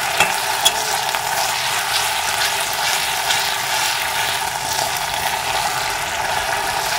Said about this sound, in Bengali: আদা রসুনটা ভালো করে ভেজে নেব।